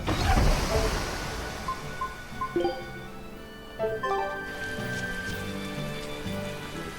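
Steady rainfall in the Tales of Berseria video game, a continuous hiss of rain beneath soft game music tones.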